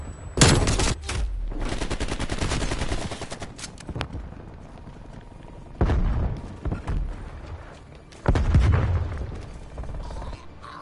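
Sustained automatic gunfire from an enemy sentry turret in the video game Black Ops Cold War, heavy bursts with booming impacts, a long opening volley followed by two shorter loud bursts.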